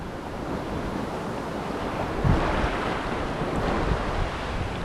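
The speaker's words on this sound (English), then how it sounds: "waves now beat me down, you know" Ocean waves surge against rocks on a Jamaican shoreline where someone is fishing, a loud, steady roar of surf with wind buffeting the microphone and a stronger crash partway through.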